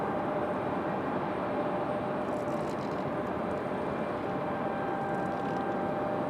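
Southwest Boeing 737 MAX 8 airliner arriving at Raleigh-Durham International Airport, a steady broadband jet roar with a faint whine, heard from a distance and continuous throughout.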